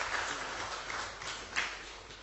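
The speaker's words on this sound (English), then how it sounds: "Please let's clap for her" Faint, steady audience clapping fills a government press briefing hall after a presenter's talk, heard at a distance with no distinct individual claps.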